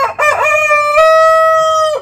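A backyard rooster crows once, close and loud, a long sustained harmonic call lasting nearly two seconds, preceded by a brief rough cluck.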